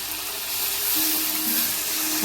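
Taro pieces sizzle as they drop into hot oil and fried spice paste for a hilsa, taro and eggplant curry, a steady moderate frying hiss that swells slightly as the pieces go in, with no voices.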